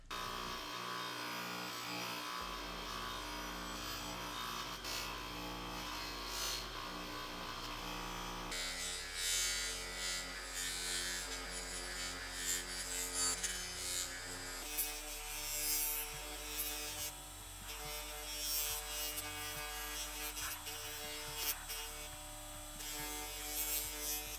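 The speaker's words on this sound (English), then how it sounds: "I'm going to pop the other Scotch-Brite wheel back on and smooth this thing out even more." A bench buffer fitted with a Scotch-Brite wheel works an engine crankcase with a continuous buzzing, abrasive hiss. The grinding rasp shifts in texture as the part is pressed and moved against the wheel, and it continues without a break.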